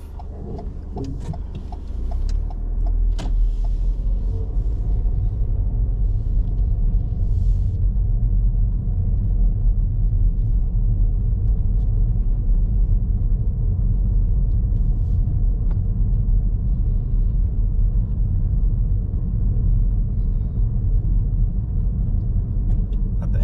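A car pulling away and driving along a road during a driving test route, heard as a steady, loud low rumble of engine and road noise from inside the vehicle, with a few ticks at the start.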